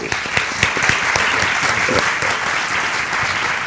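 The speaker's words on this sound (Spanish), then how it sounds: "Vamos a aplaudirles." A crowd applauds, dense clapping from many hands that stays steady throughout, with a few sharper claps standing out near the start.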